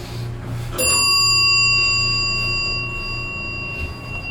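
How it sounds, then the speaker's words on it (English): An elevator lantern arrival bell on a Dover hydraulic elevator rings once with a bright, sustained metallic ding that slowly decays over a low steady hum. "I love that bell."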